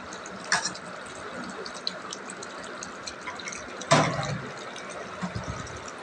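Milk is poured into a cooking pot while a dish is being prepared, a soft trickling and splashing of liquid with a louder gush near the middle, and no talking.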